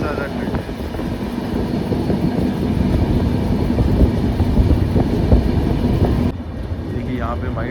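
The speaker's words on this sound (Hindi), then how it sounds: "देखिए यहाँ पे हमारी ट्रेन अब ट्रैक चेंज कर रही है।" Sanghmitra Express passenger train switching tracks near Prayagraj at night, a loud continuous rumble and rattle of wheels and carriages heard from on board, easing slightly near the end.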